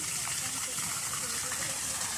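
Cold well water gushes steadily for a bath outdoors, a faint, even wash of splashing that runs throughout the short moment.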